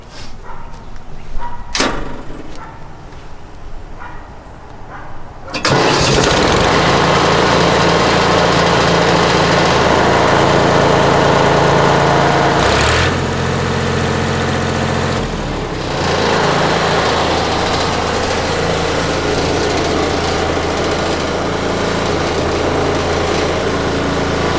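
A welding rig's engine is cranked and catches after a few seconds of quiet clatter, then runs loud and steady at close range with a slight dip in pitch midway.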